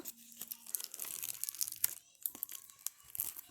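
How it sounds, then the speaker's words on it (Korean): Package wrapping being torn open by hand, with crinkling plastic and short ripping bursts spread across the clip, close and fairly quiet with no talking. "한번 뜯어볼게요."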